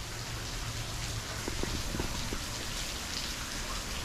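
Steady rain falls in Florida as heard from a balcony, a dense even hiss with a few closer drips standing out briefly.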